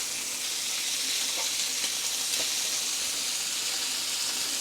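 Beef shanks sear in a hot pan with a steady, even sizzle that hisses continuously at moderate loudness, close up, with no talking over it.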